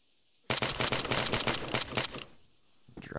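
Rapid automatic gunfire from Arma 3, a loud, dense burst of overlapping shots lasting about a second and a half, then cutting off into quiet room tone.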